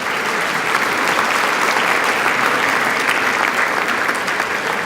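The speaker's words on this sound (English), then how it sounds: "A round of applause." Sustained applause from a crowd at a city luncheon in Portsmouth, loud and dense, filling the whole stretch evenly.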